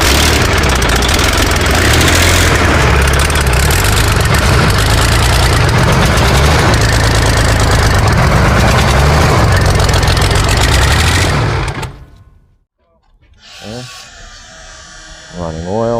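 Diesel engine in a T62 tank, newly fitted and on its first test start, churning loudly and steadily at close range with a deep low rumble, then cutting off abruptly near the end, followed by quieter background sounds and some voices.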